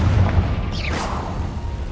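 A Confringo blasting spell from Hogwarts Legacy bursts with a deep, booming explosion at the start, followed by a crackling, whooshing burst and a lingering rumble.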